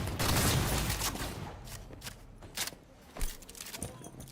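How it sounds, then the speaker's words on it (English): Shotgun blasts and gunfire in Cyberpunk 2077, a heavy burst of shots at the start followed by several sharp, spaced reports, faint and somewhat distant, with a voice talking underneath. "Oh wow, that shotgun was sick."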